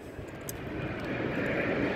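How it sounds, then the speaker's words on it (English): An airplane passes overhead, a broad, steady roar that slowly grows louder across the short stretch, heard alone at moderate distance. "oh, sorry about the plane."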